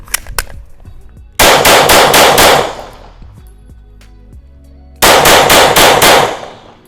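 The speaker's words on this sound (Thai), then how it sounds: "อันเนี้ยพอยิงเร็วๆปุ๊บรู้สึกว่าปืนดิ้นกว่าพอสมควรครับ" Glock 17 and Glock 47 pistols fired rapidly, loud and close: a few single shots, then two quick strings of about five or six shots each separated by a pause.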